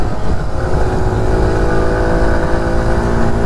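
A 2023 TVS XL 100 moped engine droning steadily while ridden with a pillion passenger, loud and continuous with wind rush, no talking.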